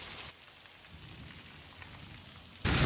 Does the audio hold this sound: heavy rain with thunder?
yes